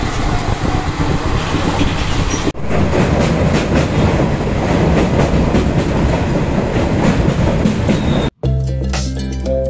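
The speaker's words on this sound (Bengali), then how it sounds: "আমরা এখন এই শক্তিগড় স্টেশন পার করছি।" Kanchenjunga Express (13176 Silchar–Sealdah) passenger train rolling through Shaktigarh station, a loud continuous rumble with rhythmic clickety-clack of wheels over rail joints, briefly dipping before a sharp cutoff near the end.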